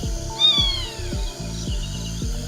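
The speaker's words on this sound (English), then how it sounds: "A rusty spotted cat." A rusty spotted cat, the smallest wild feline, gives a short, close meow and then a fainter second call, set against a steady, rhythmic low thumping beat.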